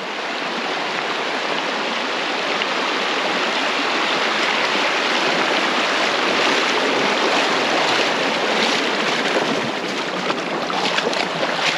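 A bicycle crosses a flowing creek on an alpine bikepacking trip. Loud, steady rushing water runs through the whole clip without a break, and no one speaks.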